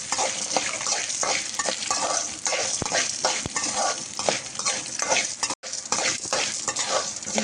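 Coriander seeds, chana dal, urad dal and peeled garlic cloves frying in a pan, a steady close sizzle with frequent scraping stirs of a spoon throughout, no voices.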